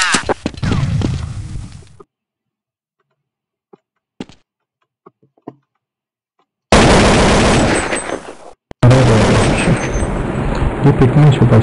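Gunfire in Counter-Strike 1.6 on the Dust 2 map: dense bursts of automatic shots at the start, scattered single cracks in a quiet stretch, then long loud sustained firing filling the final seconds.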